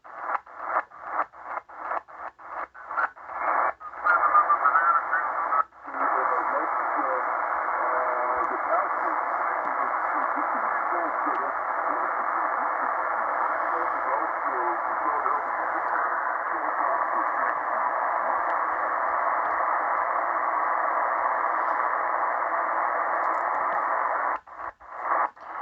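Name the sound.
shortwave radio reception on a Tecsun PL-330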